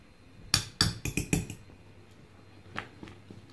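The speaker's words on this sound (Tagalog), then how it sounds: "Haluin po natin mabuti ang ating mixture ng coconut macarons." Spoon knocking against a bowl while coconut macaroon mixture is stirred, a quick run of five sharp clinks followed by a pause and a few softer, scattered taps.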